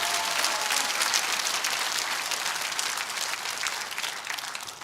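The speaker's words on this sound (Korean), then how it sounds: "큰 박수 한번 해주시기 바랍니다." An audience at a political rally applauds, a dense, steady burst of many hands clapping that fills the space and slowly tapers off near the end.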